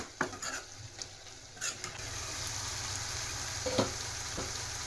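Cauliflower and green peas fry in a home kitchen pan with a steady close sizzle, broken by a few scraping stirs and light clinks of a utensil against the pan.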